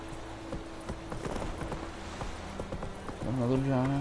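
Roach, the horse in The Witcher 3, gallops with steady rhythmic hoof clip-clops at close range, under a voice, with a brief tonal swell near the end.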